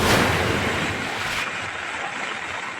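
Floodwater spilling over spillways onto roads in Daraga, Albay after heavy rain makes a loud, continuous broadband rush close to the microphone, easing slightly partway through, with no voices.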